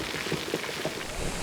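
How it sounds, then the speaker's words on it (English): Artificial rain from rain machines on a film set pours steadily in a dense, hissing patter of drops hitting surfaces, close and continuous with no voices. "Starting the rain."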